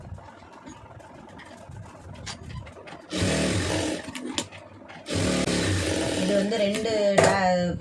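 A sewing machine stitches a plain blouse in two loud, close runs of fast whirring with a short pause between, after a stretch of someone talking quietly amid room noise.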